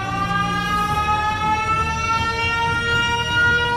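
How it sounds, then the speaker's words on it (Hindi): Cartoon character Siren Head blares his siren, a steady, loud wailing tone with stacked harmonics that holds without pause for several seconds. "वो अपना सायरन बजा देता है"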